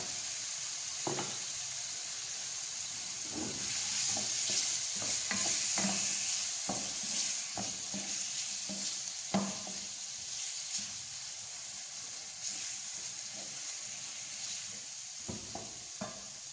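Ginger-garlic paste sizzles in hot oil in a pan over a medium flame while a spoon scrapes and stirs in irregular strokes. The frying hiss is soft and steady, with no talking.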